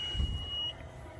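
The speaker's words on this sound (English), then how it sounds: "Here comes the loud beep." A single loud electronic beep from a Honda Passport SUV sounds as a steady high tone over low rumbling road noise, then cuts off.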